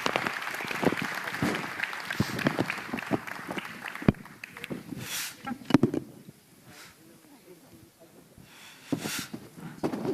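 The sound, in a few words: audience applause for panel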